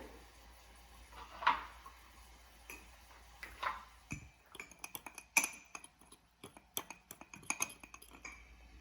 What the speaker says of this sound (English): they're going to stir it one more time